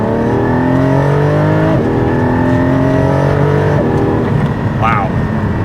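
Porsche 718 Cayman GT4 engine pulling hard through the gears, its harmonic tones rising steadily with a brief dip at a shift, loud and continuous from inside the car.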